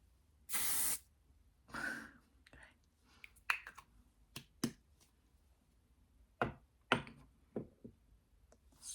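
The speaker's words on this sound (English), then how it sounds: "So that's the L'Oreal setting mist." L'Oreal setting mist sprayed from a bottle: a short, close hiss of mist, a fainter second burst, then scattered light clicks and handling taps in a quiet room.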